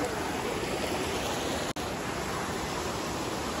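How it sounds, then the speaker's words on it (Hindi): Rushing water of a rocky mountain stream at a summer spot, a steady broadband roar close by that holds constant throughout with a single brief dropout midway. "आप यहाँ पानी का शोर सुन सकते हो।"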